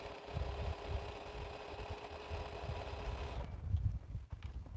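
A sewing machine stitches quilt sashing in a steady, rapid mechanical run that holds for several seconds before its tone changes and drops near the end. It is close and heard alone, without talk.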